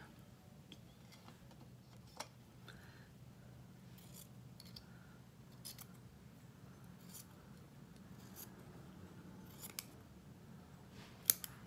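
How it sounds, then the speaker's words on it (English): Quiet scissors snipping paper in scattered, irregular cuts, close but faint, with occasional sharper clicks over a soft background hum. "I have got to get another pair of scissors."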